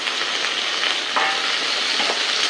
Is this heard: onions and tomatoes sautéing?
yes